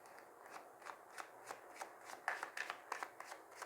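A deck of Oxum oracle cards is shuffled by hand, close and quiet. It gives a rapid series of soft riffling bursts and papery flicks at a regular rhythm, with no talking.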